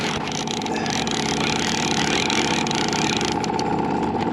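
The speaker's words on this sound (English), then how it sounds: "Keep pressure on it with the motor." An outboard boat motor runs steadily and fairly loud while a hooked trout is played on a North Idaho lake, with a constant engine drone and water noise throughout.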